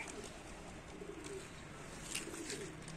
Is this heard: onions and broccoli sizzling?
no